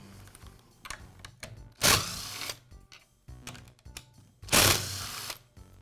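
Motor cap being removed from a DeWALT circular saw during field repair: a string of small plastic clicks and taps, broken by two louder rasping scrapes, all close by with no talk.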